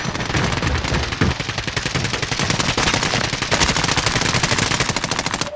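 Sustained automatic gunfire in Call of Duty Modern Warfare, loud rapid bursts of shots firing almost continuously throughout with no pauses.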